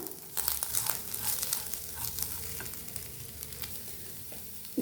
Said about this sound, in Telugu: సాల్ట్ మిరియాల పొడి వేద్దామండి అదేవిధంగా క్యారెట్ తురుము పచ్చి కొబ్బరి తురుము వేద్దామండి ఫ్రై చేద్దాం